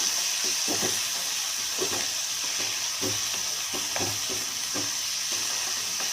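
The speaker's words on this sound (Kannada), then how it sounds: "ಲಿವರ್ ತೊಗೊಂಡಿದ್ನಲ್ಲ ಅದನ್ನ ಹಾಕ್ತಾ ಇದ್ದೀನಿ ಇದನ್ನು ಕೂಡ ಏನು ಚೆನ್ನಾಗಿ ಫ್ರೈ ಮಾಡ್ತೀನಿ" Mutton liver sizzles in a hot pan, a constant close, bright frying hiss with faint rhythmic scrapes and knocks of a stirring spoon running underneath, no voices.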